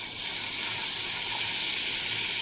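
Butter sizzling in a hot wok (kadai) on a gas stove for a Spanish omelette, a steady close hiss that holds evenly throughout with no talk over it.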